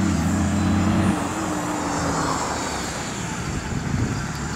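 A GMC Silverado turbo diesel pickup runs loud and near, its steady engine tone dropping into a broad roaring rush after the first second; no speech.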